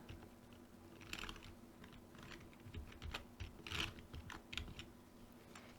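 Rapid, uneven clicking of a computer keyboard as someone types while working in Cubase music software, the keystrokes close and fairly soft, coming in short bursts with brief pauses and no talking.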